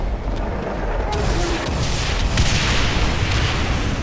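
Dense, booming gunfire and explosions from the video game Brutal Doom (Extermination Day mod) roar continuously and loudly, overlapping into a heavy rumbling barrage with a voice speaking over it.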